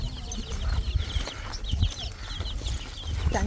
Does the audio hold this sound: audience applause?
no